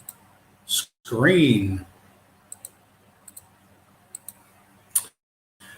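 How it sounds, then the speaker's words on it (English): Sparse, sharp computer mouse clicks, single and paired ticks spaced irregularly across a quiet room, with a brief spoken word near the start. "Please bear with me as you hear all this endless clicking of my mouse."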